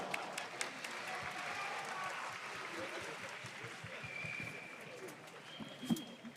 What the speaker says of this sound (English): Also, a round of applause for Colombia.